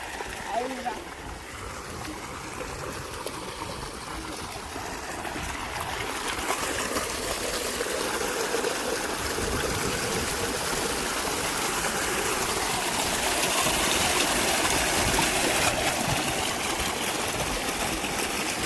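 Cold water flows and splashes steadily from an outdoor water source as someone drinks from it, a continuous close rushing sound with a voice talking over it.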